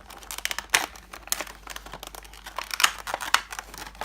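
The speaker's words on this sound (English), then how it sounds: "I will open this plastic cover." A plastic cover on a Funko Pop box crinkles and crackles as it is pulled open, with irregular close-up rustles and sharp snaps over a few seconds.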